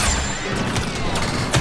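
A grenade going off in the video game Star Wars Battlefront 2, a loud sharp crash with crackling debris and a couple of short bursts near the end, close and forceful.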